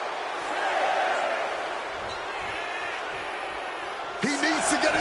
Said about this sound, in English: The crowd is behind Shawn, and he knows it